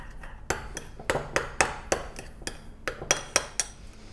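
A spoon stirs a shrimp toast sauce of Worcester sauce and ketchup in a bowl, making a run of sharp, fairly quiet clinks and taps against the dish at an uneven rhythm.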